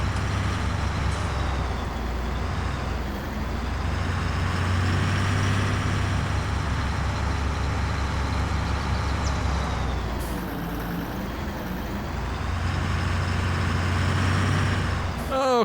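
Steady diesel drone from a John Deere 55 series tractor engine in Farming Simulator 19, running loud and continuous with a brief dip in the middle before building again, a hissing release near the end.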